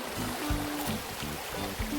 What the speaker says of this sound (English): In English, it's a stream.